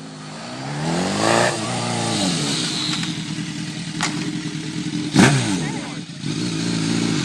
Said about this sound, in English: my friend's over and she has a motorcycle and we're like playing on it